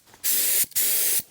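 A spray gun sprays coating on a Kubota B2601 tractor in two close, loud hissing bursts of about half a second each, separated by a brief pause.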